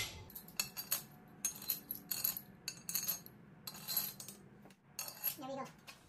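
Oil-soaked metal cylinder head bolts on an Audi 2.0L turbo engine clink and rattle as they are handled, making a series of short, bright metallic taps in uneven bursts, close up, with no talking.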